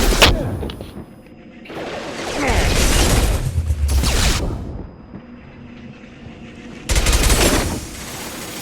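Shotgun blasts from Mass Effect 2 combat boom in heavy, roaring bursts, loud and close, separated by quieter stretches of battle ambience.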